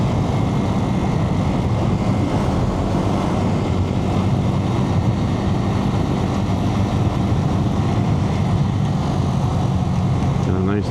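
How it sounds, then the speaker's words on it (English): A Suzuki TU250X motorcycle engine braking on a road ride, a steady loud engine drone mixed with heavy wind roar that holds unchanged for the whole stretch. "Nice long engine brake."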